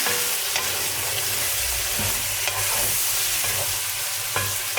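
Meat frying in a pot for a liver and heart dish: a loud, continuous close-up sizzle with occasional stirring clinks and scrapes spaced a second or so apart, no voices.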